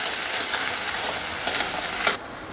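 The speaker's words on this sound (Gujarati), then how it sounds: "ડુંગળી તેલમાં સરસ સાંતળી લઈશું." Chopped onion sautéing in hot oil for a Kathiawadi dhokli curry, a steady dense sizzle that holds throughout, swells briefly near the end and then drops off abruptly.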